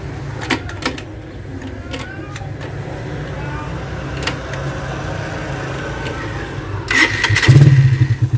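A motorcycle engine with a refitted Koso carburetor starts near the end after a long stretch of low mechanical background and faint clatter, catching quickly in one short, rising burst of idle.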